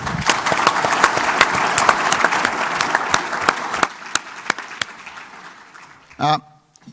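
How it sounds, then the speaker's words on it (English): A crowd at a business lunch applauds a fund manager panel steadily for several seconds, the clapping thinning out toward the end, followed by a brief spoken phrase. "Can we have a round of applause again for Nick, Nikki, and Anthony?"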